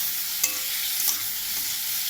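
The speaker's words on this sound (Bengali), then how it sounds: "এগুলো লাল লাল করে ভাজা হবে।" Food frying and being stirred in a pan until browned, with salt and turmeric added, giving a dense close sizzle punctuated by a couple of brief spatula scrapes against the pan, no voices.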